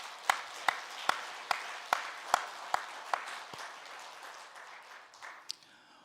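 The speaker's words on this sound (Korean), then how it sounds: "찬양대 감사와 하나님께 영광의 박수 올려드리겠습니다." A church congregation applauds the choir after a hymn of praise, beginning with a few distinct, evenly spaced claps and then fading into a looser, thinning patter before dying away.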